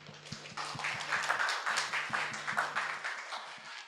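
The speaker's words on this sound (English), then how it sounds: "So a quick round of applause for Prim." An audience at an astronomy society's annual general meeting gives a short round of applause, a dense patter of many hands at moderate distance lasting a few seconds, with a faint low hum beneath.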